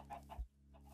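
A chicken in a video game gives a quick pair of clucks, short and moderately loud with no talk.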